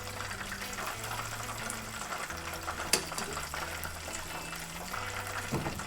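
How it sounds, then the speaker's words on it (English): A pot of water on a stove bubbles loudly and steadily at a boil, a constant gushing churn with one sharp knock partway through. "Why is this bubbling crazy loud all of a sudden?"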